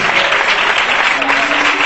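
Congregation applause in a church service, a brisk, continuous patter of many hands with voices blending in underneath, loud and close for a couple of seconds.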